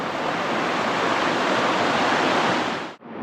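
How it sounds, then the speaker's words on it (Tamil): Loud, steady rush of a waterfall, a continuous broadband roar close by that cuts off abruptly near the end. "பாருங்க அப்படியே தண்ணி செமையாக வந்துடுது"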